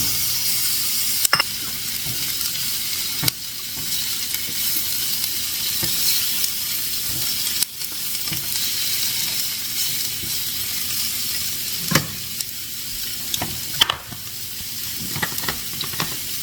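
Shrimp fry in a pan for fajitas, giving a loud, continuous hissing sizzle that runs throughout, with occasional sharp taps and clatters from a utensil or lid.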